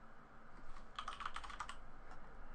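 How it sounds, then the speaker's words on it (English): Rapid, random key mashing on a computer keyboard, a quiet close burst of clustered clicks that tapers to a few scattered taps. "I've just spammed my keyboard"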